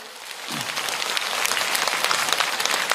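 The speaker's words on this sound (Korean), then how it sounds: "내가 박수 받으려고 그러는 게 아닌데." Lecture audience breaks into applause, dense sustained clapping from a sizable crowd that starts softer and builds to a steady, full roar of hands.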